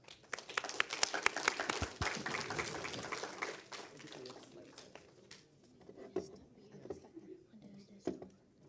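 Applause from an audience at an education day award presentation, dense clapping loudest in the first few seconds, then thinning out into scattered claps and low murmuring.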